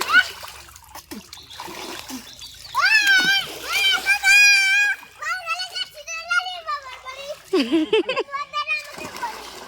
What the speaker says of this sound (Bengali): বিশাল সাঁতার কাটছে বাবা ওখানে স্নান করছে